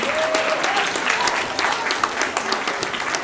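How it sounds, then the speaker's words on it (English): Audience at a comic convention in Scarborough giving the guests a big round of applause, a steady, dense patter of many hands clapping at constant loudness with faint voices mixed in. "Can I get another big round of applause for all of our guests today?"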